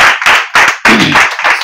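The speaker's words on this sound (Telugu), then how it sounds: "నమ్ముతున్న వారు గట్టిగా చప్పట్లు కొట్టి యేసయ్య" A church congregation claps loudly and together during a Telugu Christian service, in fast, dense bursts of applause with brief gaps between them.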